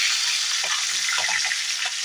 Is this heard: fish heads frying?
yes